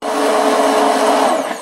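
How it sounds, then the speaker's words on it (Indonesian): Kitchen blender grinding spices with a little water for fried chicken, a loud, steady whirring drone that runs evenly and then starts to wind down at the end. "Ini langsung kita blender ya sahabatku ya."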